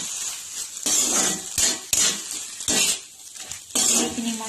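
A spoon stirs a taro and fish mixture in a cooking pot, making several separate scraping, clinking strokes with short pauses between them, close and fairly loud.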